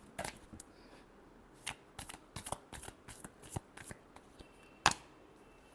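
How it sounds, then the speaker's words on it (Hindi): Tarot cards are shuffled by hand in a quiet room, a close series of crisp riffling snaps and flicks in uneven bursts, with one louder slap near the end. "Last shuffle."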